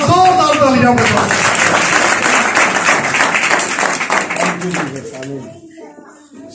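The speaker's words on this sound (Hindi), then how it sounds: "जोरदार तालियां बजाओ।" Loud audience clapping at a Hindi-speaking worship gathering, a dense sustained burst of applause that tapers off toward the end, with voices heard over it.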